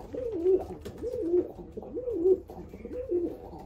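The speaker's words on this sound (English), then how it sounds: "Eric is the Snow White of pigeons" A pigeon in a loft coos repeatedly at close range, a steady series of four soft, rolling coos evenly spaced with low ambient hum underneath.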